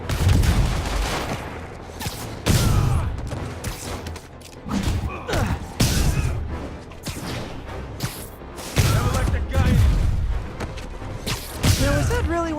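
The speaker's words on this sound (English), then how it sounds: "fugitives are opening fire from stolen vehicles" In Marvel's Spider-Man PS4 video game, fugitives in stolen vehicles open fire, with repeated bursts of gunfire and heavy thuds mixed among whooshes, game sounds and voices talking.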